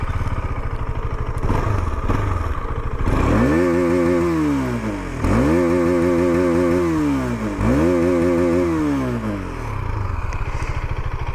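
KTM Duke 250 BS6 motorcycle with an Akrapovic full-system exhaust idling, then three sharp throttle blips in quick succession, each rising to a loud snarl and dropping back, recorded close and with no talking.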